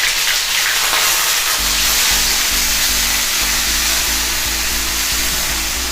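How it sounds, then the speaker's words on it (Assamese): Chopped onions sizzle and crackle steadily in hot oil in a pan, loud and continuous throughout with a dense hissing fry and no talking. "পিঁয়াজখিনি ৰঙচুৱা হোৱালৈকে মই ফ্ৰাই কৰিম"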